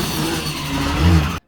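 A 1500+ wheel-horsepower BMW M4 holds a steady burnout at a drag strip, a continuous loud engine roar with tire noise that swells briefly near the end before cutting off abruptly.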